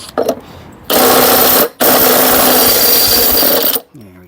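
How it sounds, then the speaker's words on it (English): Battery-powered impact wrench fitted with a chrome socket, working on a 1982 JCPenney mower: two loud, close bursts of harsh rattling hammering, a short one followed by a longer run of about two seconds, then silence. "I'm going to do something you ain't supposed to do and use a chrome socket on an impact."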